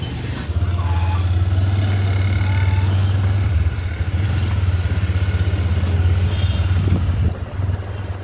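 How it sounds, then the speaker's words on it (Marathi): A car pulling away from a fuel pump drones steadily at close range, a low constant rumble that holds for several seconds before easing slightly near the end. "बघा मित्रांनो आता आपली गाडी निघालेली आहे पंपावरनं"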